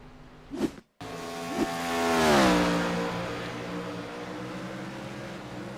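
IROC race car at Kansas Speedway, its engine rising in a loud sweeping pass that peaks midway and then holds a steady drone; a sharp cut near the start briefly drops the sound to silence.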